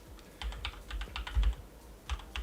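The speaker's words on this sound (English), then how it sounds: "No, since I start typing" Rapid keystrokes on a computer keyboard clatter in uneven bursts, close and moderately loud, with no talking over them.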